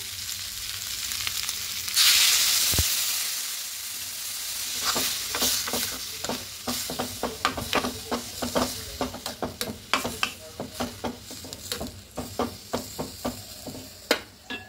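Boiled potatoes seasoned with turmeric sizzle loudly in a hot pan as a little water hits it, then settle into a steady frying hiss broken by repeated scraping spatula strokes, close and with no talk.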